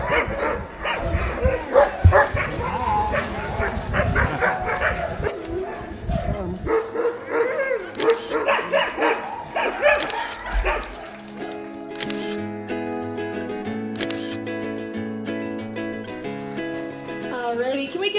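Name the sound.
dogs barking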